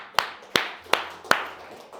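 Four slow, evenly spaced hand claps sound at a motivational talk as the audience begins a round of applause, close and distinct with quiet gaps between them.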